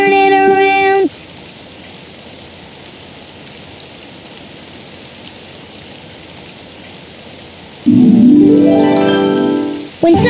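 Steady rain hisses evenly throughout, with a brief musical tone at the start and a louder tonal swell near the end.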